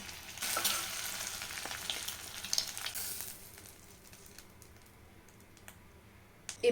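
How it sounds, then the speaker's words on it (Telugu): Eggs fry crisply in hot oil with a bright sizzling hiss that is strongest early on, then fades to a quieter crackle punctuated by light clicks and scrapes. "ఇప్పుడు ఈ ఎగ్స్ని క్రిస్పీగా అయితే ఫ్రై చేసుకోవాలి"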